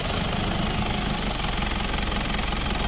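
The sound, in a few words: Mitsubishi Pajero engine starting and idling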